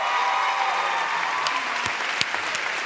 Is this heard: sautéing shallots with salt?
no